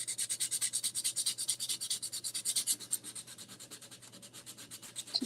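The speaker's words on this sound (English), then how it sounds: "I think what I want to do on this one is just kind of sand the edges just a little bit." Sandpaper rubbing the edges of a small Easter craft piece, a steady run of quick, even back-and-forth scratchy strokes, close and fairly soft, with no voices.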